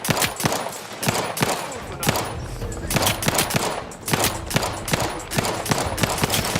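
Rapid bursts of gunfire hammer turrets in The Outer Worlds, loud repeated shots in quick volleys with brief pauses between them.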